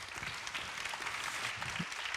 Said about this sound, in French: Applaudissements pour nos trois...